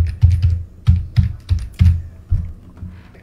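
A search being typed on a computer keyboard. About eight close, crisp keystrokes come in an uneven rhythm, each a dull thump with a sharp click, and no one talks.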